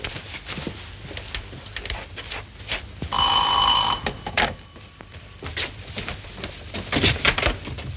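An old-style telephone bell rings in one sharp, loud burst of about a second indoors, framed by footsteps, shuffling and clunking movement before and after, with no one speaking.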